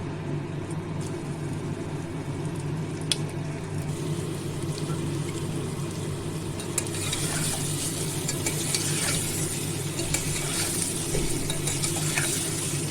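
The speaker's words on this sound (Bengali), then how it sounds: "তেল গরম হয়ে গেলে আমি এই এলাচ দিয়ে তেলে দিয়ে আমি পনিরটা ভেজে নেব" Paneer frying with cardamom in hot white oil in a pan on a gas stove, a soft, steady sizzle close by with faint stirring sounds, no voices.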